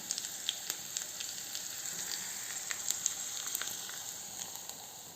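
Tempering sizzles as it is poured into raita with finely chopped onion, tomato and coriander, giving a steady, close crackling hiss with sharp little pops throughout and no talking.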